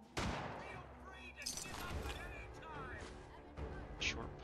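Gunfire from a short pipe rifle in the Fallout 4 video game, a handful of sharp shots scattered across the moment amid other combat noise, with a voice talking over the action.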